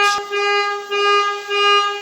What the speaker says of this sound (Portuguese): Tem um carro buzinando lá embaixo